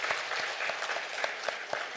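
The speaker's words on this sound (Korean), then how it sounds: "우리 환영 박수 한번 해주시기 바랍니다." A church congregation gives a welcome round of applause, a steady wash of many hands clapping with distinct sharp claps standing out throughout, moderately loud and without talk.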